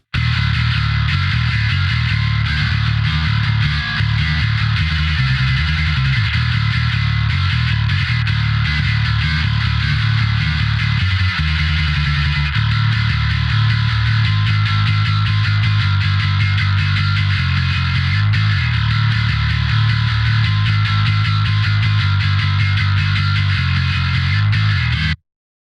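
A heavily distorted bass guitar from a plugin plays a steady, dense metal riff, thick and loud throughout with no pauses.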